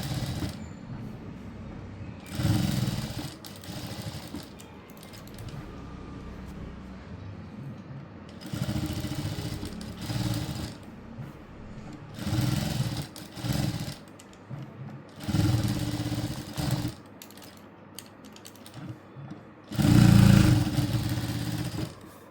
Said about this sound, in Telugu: కరుస్ని స్లోగా నీట్గా ఈ విధంగా తిప్పుకుంటూ స్టిచ్ చేసుకోవాలి.